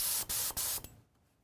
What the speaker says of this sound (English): Spray dry brush of gray.